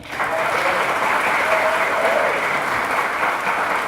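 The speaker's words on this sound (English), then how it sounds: "Give him a round of applause." Dense, steady applause from a crowd honoring a mayor at a Martin Luther King Jr. Commission gathering in Harrison, Arkansas, sustained evenly from start to finish.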